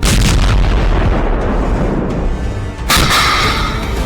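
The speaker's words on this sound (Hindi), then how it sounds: "इजराइल लेबनान बॉर्डर पर दागी गई एंटी टैंक मिसाइलें देखिए" Anti-tank missiles fired at the Israel-Lebanon border: a loud, continuous roar of blast and rumble fills the clip, with a sharp renewed burst near the end, no voices.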